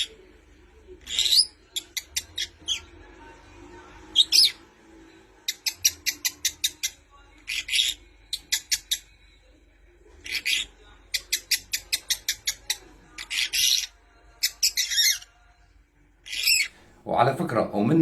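A pet rosella parakeet gives repeated bursts of rapid, high-pitched chattering calls in short rhythmic volleys, close and clear, with quiet pauses between them and a harsher squawk near the end.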